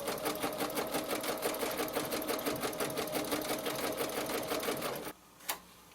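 Sewing machine stitching a heart design on a pillow, a steady rapid mechanical chatter running for several seconds before stopping, then a single faint click.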